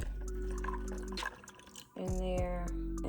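Water poured into a cup holding peeled garlic cloves, a short splashing trickle with drips, close and moderately loud, with a slight tonal ring as the cup fills.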